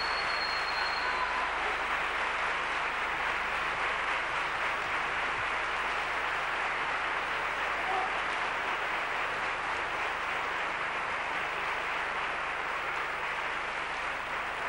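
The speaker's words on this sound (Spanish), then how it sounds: "esos maravillosos músicos para los que pido un aplauso así grande como los de esta noche" Long, steady applause from a television studio audience for the musicians on a copla music programme, a thick continuous wash of clapping that holds at an even level for over fourteen seconds.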